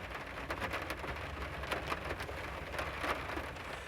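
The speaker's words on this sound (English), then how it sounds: "the rain was getting so heavy I couldn't really hear myself" Heavy rain pours steadily outdoors, a dense continuous hiss with scattered louder drop impacts throughout, fairly loud and with no voices.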